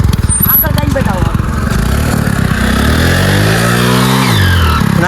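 A motorcycle engine runs close by, idling roughly and then revving up and falling back, while people talk loudly over it.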